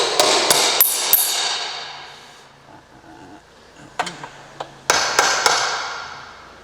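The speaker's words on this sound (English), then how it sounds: "we'll just knock the case off the dowels" A hammer knocks a Lamborghini and Audi R8 gearbox case off its dowels with a quick run of sharp metallic blows, then a quieter pause and a few scattered taps, then another burst of ringing strikes, all close.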